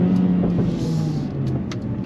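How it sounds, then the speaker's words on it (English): Mercedes-AMG A45 S hot hatch on the move, a steady loud engine rumble with a falling drone while it drops a gear under braking, and a few short sharp crackles from the exhaust on the overrun. "pops and bangs, can you hear that?"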